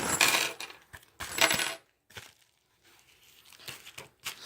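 Small metal handcuff keys on a ring jingle and clink as they are handled, with several bright bursts of rattling close by, separated by quiet gaps and softer taps.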